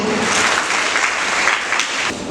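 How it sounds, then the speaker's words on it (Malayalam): An audience at an anniversary celebration at St. Annes GHS, Changanacherry, applauds to welcome the parents. It is a dense, steady wash of many hands clapping at once, loud throughout, with no voices over it. "സ്നേഹം നിറഞ്ഞ മാതാപിതാക്കളെ നിറഞ്ഞ കൈയടികളോടുകൂടി നമുക്ക് ഈ സദസ്സിലേക്ക് സ്വാഗതം ചെയ്യാം"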